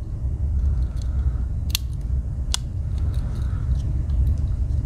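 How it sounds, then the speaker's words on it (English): The small scissors of a pocket multi-tool are opened up close, giving two sharp, isolated metallic clicks over a steady low background hum. "We get the scissors."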